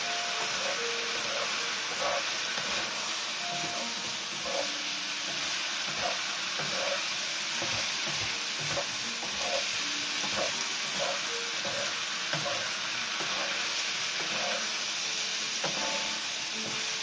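Chicken breast and vegetables stir-fry in a pan over raised heat, giving a continuous loud sizzle with repeated scraping and stirring clatter throughout.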